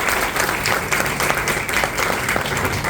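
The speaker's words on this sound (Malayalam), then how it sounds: "വലിയൊരു കൈയടി" Audience applause at a Malayalam game-show event, a dense, even burst of many hands clapping that fills the whole short stretch.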